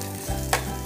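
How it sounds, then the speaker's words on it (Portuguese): Cashew fruit pulp sautéed in about a spoonful of oil, giving a steady close sizzle with a brief scrape of stirring partway through; no one speaks. "Agora vamos refogar aqui, ó. Pro bagaço pegar o tempero."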